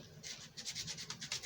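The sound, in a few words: rough grit sandpaper sanding a cherry wood carved cardinal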